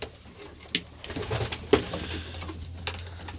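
Ornamental pigeons coo softly while feeding in a winter loft, with low burbling calls and a few sharp pecking or wing taps scattered through a quiet background.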